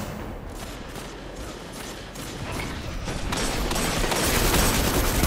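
Rapid submachine gun fire in a Destiny Crucible match, a dense, loud, continuous burst of shots that builds and grows more intense toward the end, with no talking over it.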